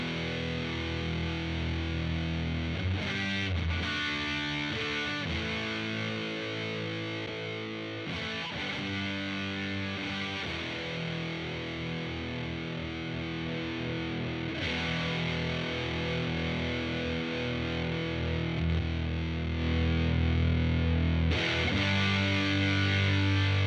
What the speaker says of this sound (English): So distortion full, EQ as flat as we can get it.